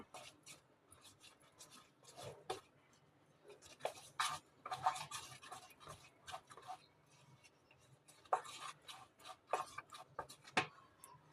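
A spoon stirring and scraping a flour mixture in a bowl, with soft irregular clicks and scrapes at close range that come in bursts with quiet gaps between them.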